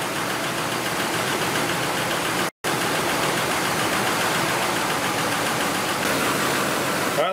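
A 2005 Ford F-150 pickup engine idles steadily to warm up after a transmission install, a constant close, even rumble running throughout with one brief dropout partway through.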